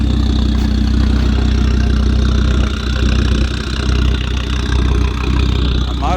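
Engine of a cheap used Volvo car idling after starting, a loud steady low rumble with a regular throb that dips briefly midway, while someone talks over it.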